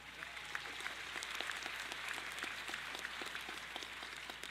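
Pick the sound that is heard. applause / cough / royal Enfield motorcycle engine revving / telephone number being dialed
applause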